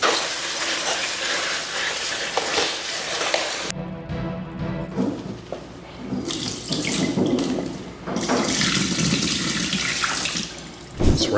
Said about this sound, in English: Go ahead and take this off and give it a quick rinse.